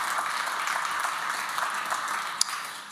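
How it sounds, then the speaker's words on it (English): Audience applause at an evening economic forecast event, a steady wash of clapping from a crowd that holds evenly for the whole stretch, with one sharp louder clap near the end. "let's a round of applause for thanking those folks that joined us this evening"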